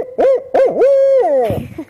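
A human voice imitates a barred owl's hoot series, giving a few warbling, rising-and-falling hoots close up and alone, ending with a breathy trailing note.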